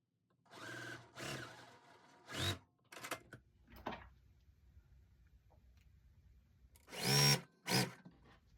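Sewing machine stitching fabric for a checkerboard basket quilt block, heard as several short separate bursts of motor whir with pauses between, moderately loud and close, ending in a louder pair of runs.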